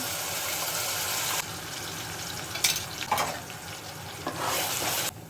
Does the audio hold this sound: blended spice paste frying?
yes